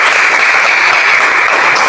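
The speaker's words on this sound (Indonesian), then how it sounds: "Tepuk tangan dulu." A classroom full of students claps together in a brief, dense burst of applause that stays loud and even throughout, with no talking over it.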